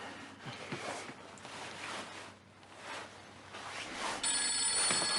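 A mobile phone rings indoors in a home, its ringtone sounding at moderate loudness over rustling and movement noises, growing brighter and louder toward the end.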